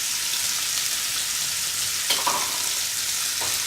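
Carrots and cabbage sizzle steadily in a hot pan for chowmein, a continuous hissing fry with a couple of brief stirring scrapes partway through and no talking.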